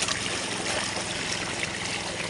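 Water dribbles steadily into a new fish pond, a continuous, fairly close trickling wash with no pauses and no voices.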